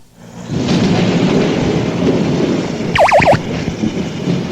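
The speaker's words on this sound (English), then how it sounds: "Now in the sound test is lightning and thunder judgment." A loud, sustained rumble of thunder with rain-like hiss, broken near the end by a quick series of sharp warbling electronic zaps.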